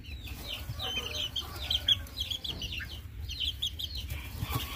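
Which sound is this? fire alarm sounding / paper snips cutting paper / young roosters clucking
young roosters clucking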